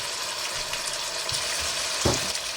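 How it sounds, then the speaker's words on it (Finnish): Meat browning in a pot for Karelian stew, the pieces having warmed at room temperature first, gives a steady, moderately loud frying sizzle across the whole stretch, with a brief stir or clatter near the end and no talk. "Sillä aikaa kun nuo lihat ruskistuu tuossa vähän"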